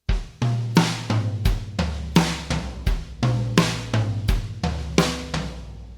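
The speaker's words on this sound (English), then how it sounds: "just playing the upbeat eighth notes with a simple kick and snare pattern underneath with no ghost notes" An upbeat drum groove: steady eighth-note hits over a simple kick and snare pattern, tight and punchy, no other sounds.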